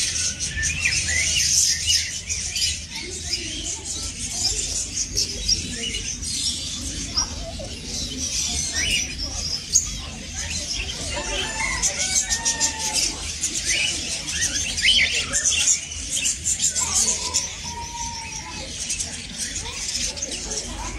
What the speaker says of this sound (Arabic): جميع انواع الطيور